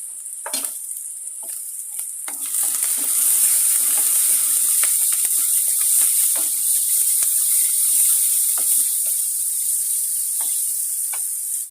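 Egg fried rice ingredients fry in a hot pan, a loud steady sizzle and hiss that swells after a couple of seconds and runs on evenly, dotted with faint spatters and utensil scrapes.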